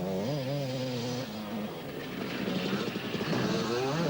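A Husqvarna enduro motorcycle racing at the 1991 World Enduro Championship in France, its engine note rising and falling as it revs and passes, with a second motor buzzing underneath and outdoor background noise.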